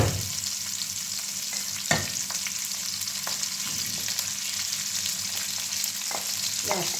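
Onion sizzles steadily in hot oil in a pan, with a few soft clacks as it is stirred now and then. No voices are heard.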